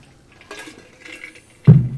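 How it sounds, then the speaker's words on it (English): A glass of water set down or handled, a few soft clinks and small sloshing sounds, then a brief louder thud near the end, close and isolated. "It's like a glass of water."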